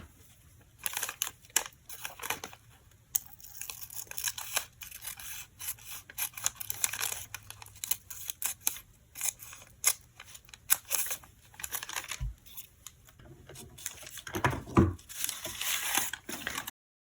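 Scissors trim overhanging paper on a turkey pop-up card, short crisp snips and rustles of cardstock in bursts, close and quiet with brief pauses between cuts.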